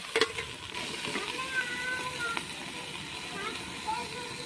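Vegetables sizzle in a pan while being stirred with a little salt, giving a steady frying hiss with soft scraping strokes and a few brief clinks.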